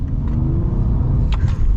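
A 2023 Mercedes-Maybach S680 with a V12 and 9-speed gearbox pulls away from a stoplight, giving a loud, smooth low rumble and whir heard from inside the cabin.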